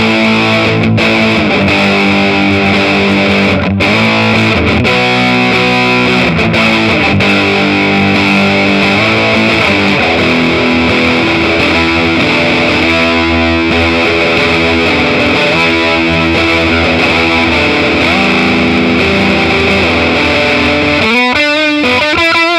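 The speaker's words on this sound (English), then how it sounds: "Right, the DJE Wolves of Winter distortion." Electric guitar played through a DJE Wolves of Winter pedal on its mega distortion side, a loud, thick saturated tone with sustained chords and riffs throughout, ending in a brief burst of fast choppy strums.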